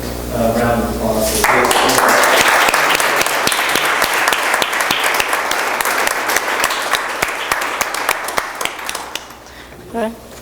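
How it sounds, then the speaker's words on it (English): An audience at an architecture research panel applauds at the close, a voice first speaking alone before a sudden burst of sustained, full clapping that gradually thins and tapers off, and talk resumes at the end. "I think round of applause"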